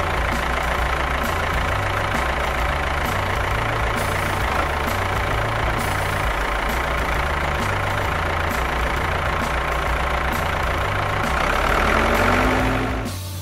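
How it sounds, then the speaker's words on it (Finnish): A toy excavator's engine rumbles continuously with a steady low pulsing throb, loud and close, with no talking. "Kaivinkone."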